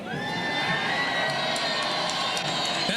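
A large audience at a 1994 World Cup event in Chicago cheering and whooping together, a loud continuous roar of voices with some high shouts sustained throughout.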